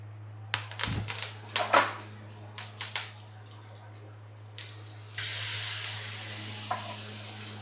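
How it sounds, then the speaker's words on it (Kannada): Fish fries in oil on a tawa with a steady sizzle that swells louder midway, while sharp taps and scraping clatter of a utensil on the pan come in quick bursts at the start. "ಆಯಿಲ್ ಹಾಕಿ ಪ್ಯಾನ್ ಫ್ರೈ ಮಾಡ್ತಾಯಿದ್ದೀನಿ ಇವಾಗ."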